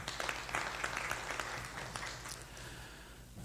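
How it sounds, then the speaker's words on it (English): A conference audience gives a brief round of applause for a panelist, fairly quiet and distant, with a few sharper claps early before it thins out and fades. "An applause for her."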